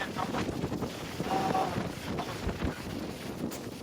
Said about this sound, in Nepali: कस्तो बबार हावा चलिरहेको